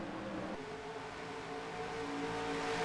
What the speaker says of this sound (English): it's literally just the cars I'm hearing going into turn 3